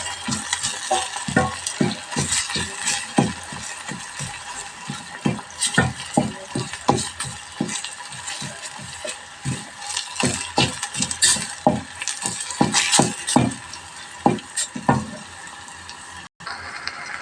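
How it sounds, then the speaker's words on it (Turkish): A utensil stirs tomato paste and red pepper powder in a hot pan, with a soft sizzle throughout and repeated scraping strokes in an irregular rhythm, close up, and no talking. "Salçamızı, kırmızı toz birimizi koyduk. Karıştıralım."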